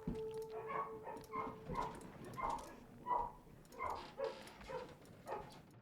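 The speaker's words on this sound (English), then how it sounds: "you can probably hear the doggos" Excited puppies and dogs in a home yip, bark and whimper in a rapid, repeated pattern, faint and somewhat distant.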